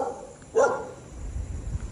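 A single short dog bark rings out at an abandoned beach resort on a stormy day, moderately close, followed by low rumbling wind noise.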